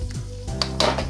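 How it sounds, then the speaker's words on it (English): Steady, loud sizzling of tortillas and seasoned vegan meat frying in a pan, with a low hum beneath and a couple of light scraping clinks. "And that's sizzling."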